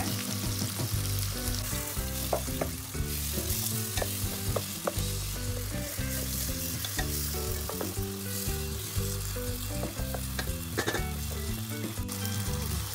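Mint, curry leaves and a little salt sautéing for mutton biryani: a steady loud sizzle with continuous stirring and spatula scrapes, dense and close throughout with no pauses.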